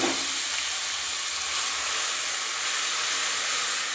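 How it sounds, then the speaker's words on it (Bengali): Spice masala hitting hot oil in a pan sends up a steady, loud broadband hiss and sizzle that holds evenly throughout, with no talking over it. "এখন মশলাটা দিয়ে দেবো।"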